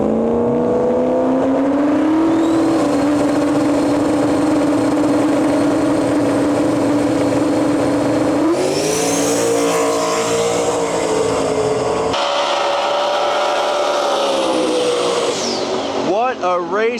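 Limited Street drag race cars launching side by side in a final at the Smoke, Fire and Thunder outlaw event in Canada, loud engines roaring and revving through shifts continuously, with an announcer talking over the noise.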